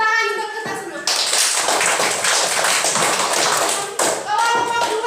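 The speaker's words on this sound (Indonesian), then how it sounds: "Tepuk tangan untuk kita semua." A primary school class breaks into applause, a dense burst of many children clapping for a few seconds, with a voice speaking before and near the end.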